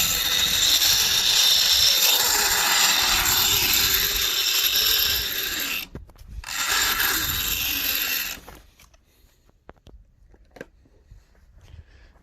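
An Allis Chalmers B-110 winch tractor pulling a load gives a loud, close, continuous mechanical grinding and whirring that stops briefly and then resumes before cutting off, leaving faint clicks and quiet, with no talking.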